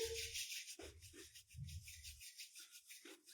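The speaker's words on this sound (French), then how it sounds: "Vous frottez jusqu'à ce que vos mains soient chaudes parce que lorsqu'on frotte, on active les ingrédients" Oiled hands rubbed briskly together to warm them, a close, soft swishing friction in several short bursts with brief pauses between.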